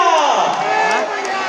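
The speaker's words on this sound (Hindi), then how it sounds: "दोनों हाथ में ऊपर करके एक बार जोरदार जयघोष लगा दो" A crowd at an app launch event in Chhattisgarh gives a brief, loud, close cheer, many voices shouting together in one burst.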